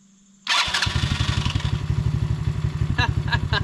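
A Chinese 110cc ATV engine cranks and fires after a short quiet moment, then settles into a fast, rhythmic, chugging run heard up close, with a few brief clicks or clanks near the end.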